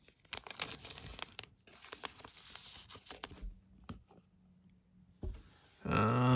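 Foil packs of 2022 Topps Allen and Ginter baseball cards are torn open by hand, with sharp bursts of ripping and crinkling wrapper noise, close and fairly loud, with pauses between tears.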